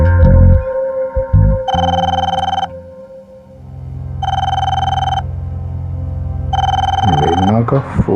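A telephone rings in a home at night, three evenly spaced electronic bursts of bright trilling tone, loud and close over a low background music bed, with brief sounds between rings.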